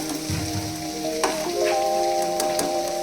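Mustard oil heats in a pan for frying and gives a steady close sizzle with faint crackling, a low hum and a brief tonal whine underneath, no voices.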